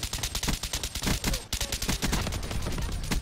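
Rapid gunfire in a Black Ops shooter game, a dense stream of sharp shots with a brief gap at the midpoint, loud and close with no talk.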